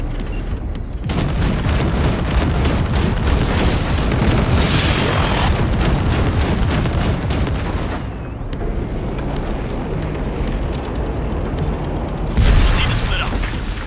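Heavy blasts from a gate being blown open in Cyberpunk 2077, a dense, sustained roar of rumbling explosions and crackling debris with a fresh loud burst near the end, voices speaking underneath.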